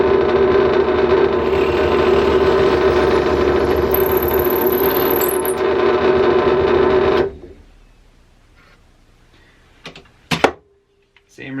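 A Central Machinery 8-inch bench top drill press runs at a higher RPM with a steady, loud motor whine and hum for about seven seconds, then stops, leaving a few quiet knocks and clicks.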